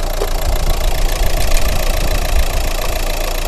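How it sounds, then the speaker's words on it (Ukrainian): A 2014 Renault Megane engine idles steadily with a low, even rumble and a faint knocking rhythm, close by and continuous, with no voices. "Двигун запускається легко, чітко, працює ідеально просто."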